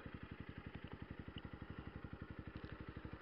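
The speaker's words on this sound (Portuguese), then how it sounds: "É, rapaziada, essa é a minha moto, hein?" A 2015 Honda Fan 150 ESDI motorcycle fitted with a G-Scape exhaust idles close by, its fast, even, steady putter pulsing evenly and alone.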